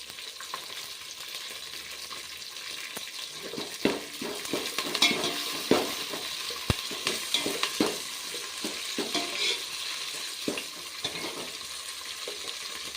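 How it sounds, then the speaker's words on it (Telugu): Curry leaves dropped into hot oil for North Karnataka style borugula vagarni, a close, crackling sizzle with scattered pops and stirring scrapes that grow busier in the middle and then settle. "కొంచెం వేగాక కరివేపాకు వేస్తున్నాను."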